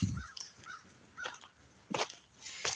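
Several crows caw in short separate bursts, each a brief harsh call, spread across a few seconds with quiet gaps between them.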